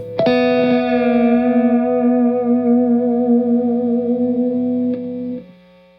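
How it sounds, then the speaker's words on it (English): A sustained distorted guitar note rings out through a delay pedal set up to 500 milliseconds, its echoes blending into a smooth wash before cutting off and fading. "you can have all the way up to 500 milliseconds delay time"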